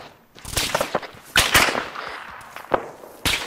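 Sharp gunshots crack in quick bursts and single shots during a firefight in Restrepo, Afghanistan. The shots are loud and close, with brief echoing tails between them.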